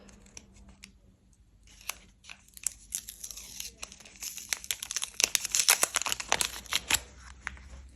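Crinkly paper surprise packet being torn and pulled open up close, sharp crackles and rips building in a busy burst before fading.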